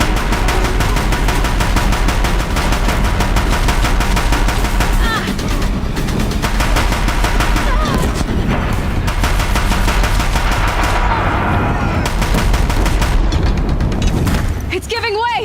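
Heavy rapid gunfire and booming blasts from Deathbringer war machines in Horizon Zero Dawn, a dense loud barrage lasting throughout with voices shouting over the battle noise.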